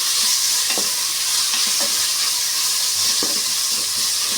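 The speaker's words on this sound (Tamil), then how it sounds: "பாருங்கள், வெங்காயம் நல்லா வதங்கிடுச்சு." Onions sauté in a hot pan with mint, coriander and curry leaves, giving a steady close sizzle with several soft scraping stirs of a spoon against the pan.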